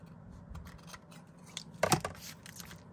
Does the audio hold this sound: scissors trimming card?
yes